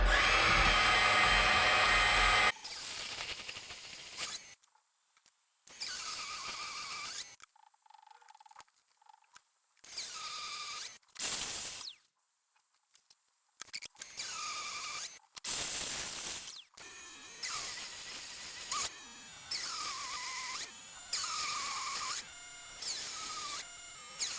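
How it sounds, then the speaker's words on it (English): A mini lathe cuts metal up close in repeated loud passes of a few seconds each, a whining, grinding tone that drops away into near silence between cuts, with no talking. "moving 1 millimeter down, I will start cutting"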